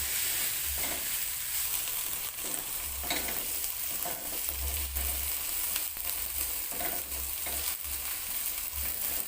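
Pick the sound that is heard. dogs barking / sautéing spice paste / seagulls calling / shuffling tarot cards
sautéing spice paste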